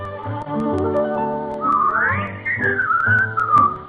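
A group whistles a song on an old-time radio comedy broadcast, a bright melodic whistle gliding and sliding over an accompanying band, loud and close with no talking.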